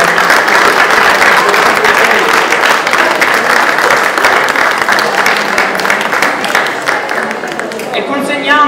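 Sustained applause from the audience at an Italian pastry chefs' award ceremony, loud and continuous, with some voices talking under the clapping near the end.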